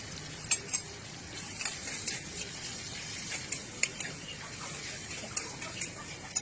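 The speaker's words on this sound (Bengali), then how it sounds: "এটা একটু ভেজে নেব" Grated ginger and tomato fry with cumin in a pan, giving a soft, even sizzle close by, with a few light clicks and taps of stirring scattered through it.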